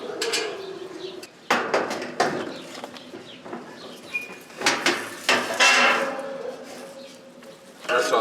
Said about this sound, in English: I'm going to pull these screws out so that we can get the fan off